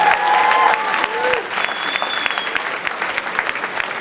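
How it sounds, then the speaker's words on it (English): Loud, dense audience clapping that gradually thins and softens, with a few faint tonal squeaks and distant voices mixed in. "a huge round of applause once again, please"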